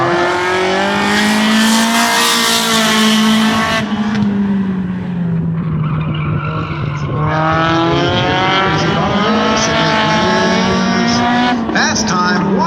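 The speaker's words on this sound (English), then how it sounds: "one of the fastest laps we've seen all day in the factory front wheel drives" A factory front wheel drive race car on a single-car qualifying lap at the Indianapolis Speedrome, its engine loud and close, revving high and steady and dropping briefly between shifts.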